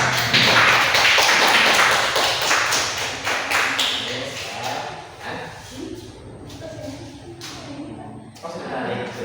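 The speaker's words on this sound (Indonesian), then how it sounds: "Berikan aplaus dulu, berikan aplaus." A class applauds, a dense patter of many hands clapping that starts loud and slowly thins out, with voices mixed in.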